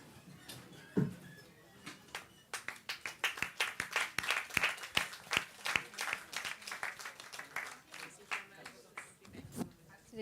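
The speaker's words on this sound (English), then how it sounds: "Big round of applause to all of you." An audience claps at a gender equality talk show, with applause swelling from scattered claps into a dense, steady round of clapping before thinning out near the end.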